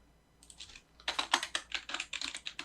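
Mouse clicks and a key press at a computer running AutoCAD: a rapid series of sharp, close clicks, sparse at first, then a steady run of crisp taps, heard alone.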